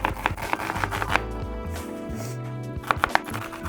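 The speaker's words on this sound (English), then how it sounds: "so nice little dice on the onion" A knife dices an onion on a cutting board in quick bursts of sharp chops at the start and again near the end, under a steady background of music.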